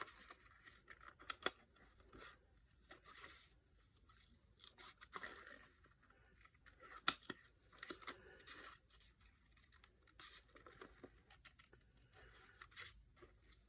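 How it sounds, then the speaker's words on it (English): Fine tip scissors snip around the edge of a stamped paper snowflake, with faint, quiet close-up cuts and light paper rustling in irregular short bursts, no talking. "With my fine tip scissors,"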